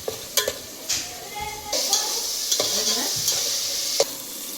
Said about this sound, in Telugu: సో కొంచెం టమాటోస్ని నీట్గా ఫ్రై చేసుకొని